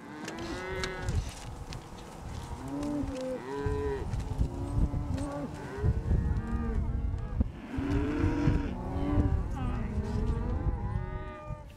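Cattle and calves moo loudly and repeatedly in a herd during ranch branding, with calves roped and dragged to the fire in the Great Basin and Old California tradition; overlapping bellows from near and farther animals continue throughout.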